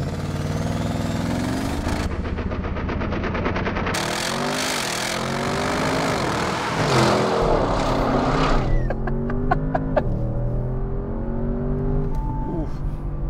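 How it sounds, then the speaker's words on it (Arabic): Audi RS6 Avant with a 4-litre twin-turbo V8 producing 600 hp, revving loudly in repeated rising and falling sweeps, a deep throaty roar that climbs in pitch, then settles to a lower burbling idle. "اللي انتوا شفتوه ده طالع من انجن 4 لتر في 8 توين تيربو بيولد 600 حصان و 800 نيوتن متر في تورك"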